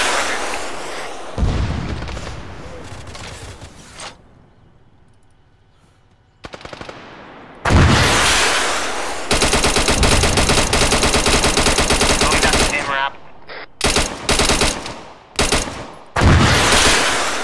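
Sustained machine gun fire in the military shooter ArmA 3 during a convoy ambush, with loud rapid bursts separated by short gaps and a heavy stretch of continuous fire.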